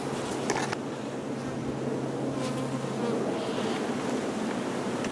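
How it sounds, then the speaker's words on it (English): Dense, continuous buzzing of a honey bee colony in an opened hive with every seam full, close and steady throughout with a low hum underneath and a few sharp clicks. "Again, we got a pretty good bee population up top here."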